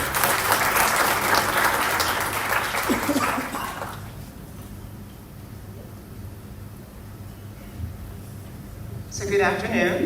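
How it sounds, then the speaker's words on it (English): A conference audience at a nuclear engineering event in Nairobi applauds a speaker walking up, loud, dense clapping for about four seconds that fades into quiet room hum, then a brief burst of sound near the end. "let's give her a round of applause as she makes her way here"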